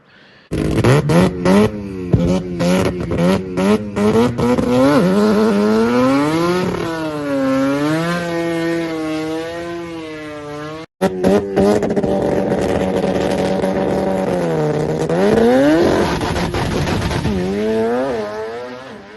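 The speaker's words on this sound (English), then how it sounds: "And the car went a 7403 at 190, straight off the trailer, mate." Drag race car making a full pass down the strip, a loud harsh engine blaring through rapid rising gear changes, a brief cut near the middle, then sustained roaring revs to the end, with no talk.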